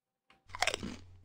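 Crunchy chewing of mushrooms in a horror video game: a short, close run of crisp bites and munching that starts after a brief soft knock and fills the second half alone.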